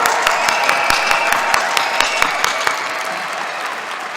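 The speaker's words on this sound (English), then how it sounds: "Let's give a big round of applause for true parents." Audience applause at a celebration event in New York City, a dense, steady wash of many hands clapping with sharp individual claps standing out, sustained loud throughout.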